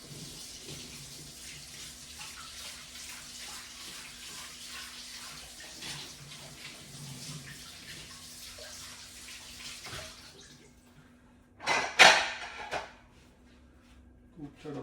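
A plate is rinsed under a running kitchen tap while cooking pitla and bhakri, with a steady, moderate stream of water that stops, followed by a few sharp splashing bursts near the end.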